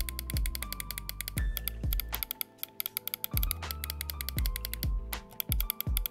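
Crisp, repeated clicking of a gaming mouse's optical magnetic switches, close and dry, in quick irregular bursts and pairs with short pauses between.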